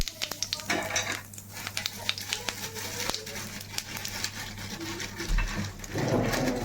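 Cumin seeds sizzle in hot oil in a kadai with irregular crackles and pops, while a few sharp clinks of a spoon on the pan ring out and the frying swells louder near the end.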